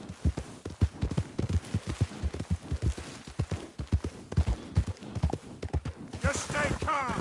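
Horse hooves clip-clopping in a fast, irregular rhythm of deep thuds, near and prominent, with brief talk toward the end.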